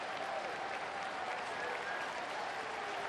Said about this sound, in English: Jimmy gets a nice round of applause as he goes to the dugout